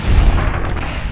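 A single gunshot in the Fallout New Vegas video game, fired as an attempted headshot: a loud, close boom with a low-end thump that lingers briefly.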